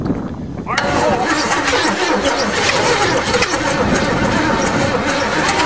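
Small engine recovering from hydrolock cranks and catches with the choke partly on, running roughly and loudly up close after a brief quiet start, with people talking over it.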